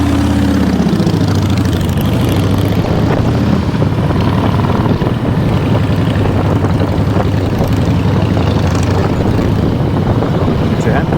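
A loud, rough pre-war Polish Sokół 1000 motorcycle engine chugs steadily up close, a throbbing, uneven running note with wind rush throughout.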